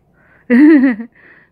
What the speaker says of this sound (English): my mom's cat